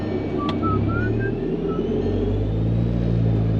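Mk5 Golf GTI with a K04 turbo running hard on a dyno, a loud steady engine drone with deep low rumble holding throughout, a few faint short beeps sounding over it early on.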